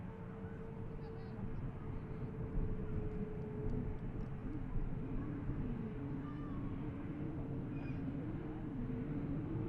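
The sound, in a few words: airliner at Manchester Airport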